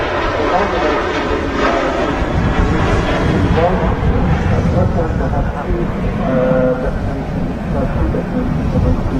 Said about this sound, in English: Lufthansa 321 on a roll. Aircraft just taking off